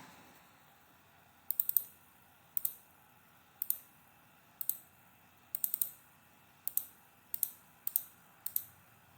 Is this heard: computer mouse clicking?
yes